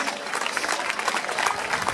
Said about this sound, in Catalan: podríem donar un aplaudiment a la gent de Balaguer